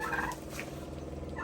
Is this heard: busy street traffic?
no